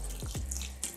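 Plain tap water poured into raw meat mince for Uyghur samsa filling, a short close splash and trickle from a faucet with no talk.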